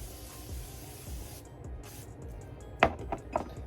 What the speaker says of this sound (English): I'm using the Morphe setting spray